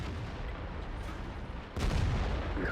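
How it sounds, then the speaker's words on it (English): A tank cannon fires in the World of Tanks video game during T-54 Lightweight combat: a sudden heavy boom cuts through a steady rumbling battle background near the end. "We put the final shot into the side of his tank"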